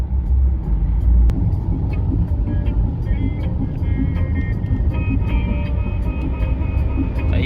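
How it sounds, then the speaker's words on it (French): Old trucks rumble past on a road in Morocco near construction work, a steady close engine drone with passing traffic, faint tonal beeps and a clank, and a voice speaking briefly over it. "Ah, les vieux camions là."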